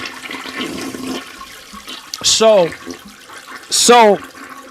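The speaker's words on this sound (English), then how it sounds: "Drop the toilet flush." A toilet flush sound effect plays in two short bursts of rushing, gurgling water, loud and close, with a voice speaking briefly beforehand.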